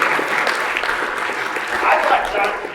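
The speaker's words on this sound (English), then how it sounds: "Can we please applaud this woman for the best intervention we will have today?" A conference audience bursts into warm applause, a dense, even patter of many hands clapping close by, swelling slightly near the end.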